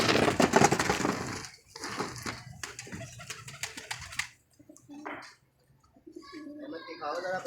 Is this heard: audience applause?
no